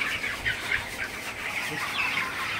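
A flock of broiler chickens, about a month old, clucks and peeps continuously in a busy, high-pitched chorus, fairly close, with no one speaking.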